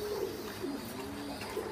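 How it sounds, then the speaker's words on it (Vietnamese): An American giant pigeon coos in low, soft repeated calls close by, over a steady background hiss. "bồ câu gà, bồ gà Mỹ đấy, rất to"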